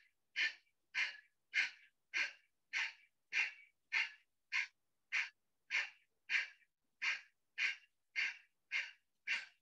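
Kapalabhati yoga breathing during a chair yoga session, a steady series of about seventeen sharp, forceful nasal exhalations at an even rhythm, close and alone with no talk.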